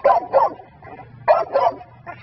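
A dog barks close by in two pairs of sharp, moderately loud barks separated by a short pause, with a faint low background hum.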